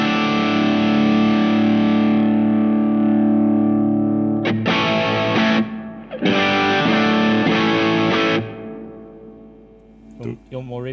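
Electric guitar through a BK Butler Tube Driver overdrive pedal with no flanger, loud sustained distorted chords ringing out, then a second burst of strummed chords cut off near the end.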